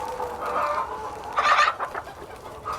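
Several chickens cluck and murmur in a farm run where hens forage and scratch, a steady low chatter with one louder, sharper burst near the middle, close by and without speech.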